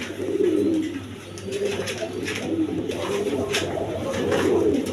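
Several pigeons coo in overlapping low, rolling calls, a loft of fancy full-coloured pigeons such as Raj Golla and Lalgadra kept for sale, steady and close with no talk.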